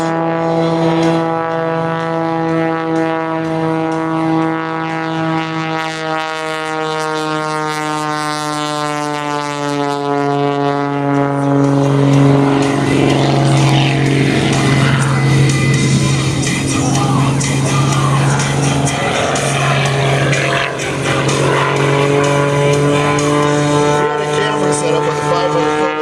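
A propeller-driven aerobatic airplane flown by Skip Stewart at an airshow in Shafter, California, its engine droning loudly and shifting pitch as it maneuvers, with an announcer talking over it.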